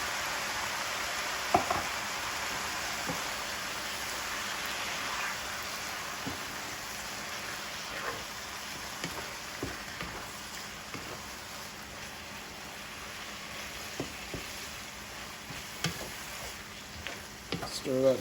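Hamburger stroganoff in a pan over medium heat, with a can of cream of mushroom soup being stirred in: soft, steady spoon scrapes and gentle sizzling over a low bubbling bed, with a few sharper clicks against the pan.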